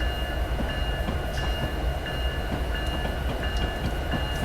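An NS SD60E diesel locomotive slows on the Horseshoe Curve in Train Simulator 2019, a steady loud rumble of engine and rolling wagons with faint rhythmic track clicks.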